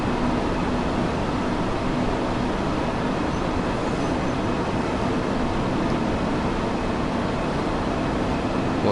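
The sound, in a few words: train slowing down in Train Sim World 2 video game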